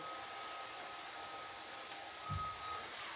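A hair dryer blows with a steady, airy whoosh, running constantly at moderate volume, with a brief low thump near the end.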